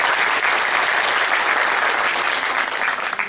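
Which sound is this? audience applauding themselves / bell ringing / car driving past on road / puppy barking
audience applauding themselves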